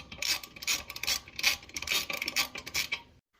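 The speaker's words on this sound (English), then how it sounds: "now we can take the socket wrench and start tightening them down." Socket wrench tightening toilet tank bolts during a Kohler 2-inch flush valve replacement, giving a run of quick ratcheting clicks in short bursts, close and fairly loud, with no talking, ending in silence.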